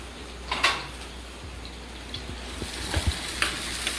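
Sliced onions frying in a pan in a Kerala home kitchen give a soft, steady sizzle, with occasional clinks and scrapes of a utensil stirring against the pan, fairly close and with no talking.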